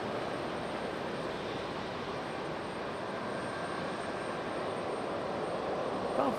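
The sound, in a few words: Southwest Boeing 737 MAX 8 arriving from Denver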